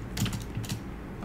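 Fast computer-keyboard typing of a file name, a quick run of close, crisp key clicks in two short bursts, with no talking.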